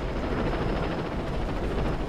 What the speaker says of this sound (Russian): Вертолет. Вертолет, блин.